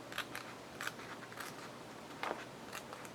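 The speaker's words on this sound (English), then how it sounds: "with me tiny scissors. And they are so tiny, but they work amazing for fussy cutting" Tiny embroidery scissors snipping paper during fussy cutting for a pocket page, several quick, crisp close snips spaced irregularly over a quiet background.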